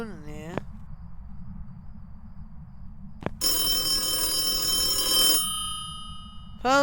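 A telephone in the video game Phasmophobia rings with bright, repeating electronic trills, loud and close, starting after a quiet stretch with a short chirp at the start and end.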